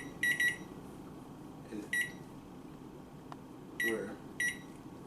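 Oven timer being set, giving short bursts of high electronic beeps, two close together, then a pair a moment later, then two more, all fairly faint against quiet room noise.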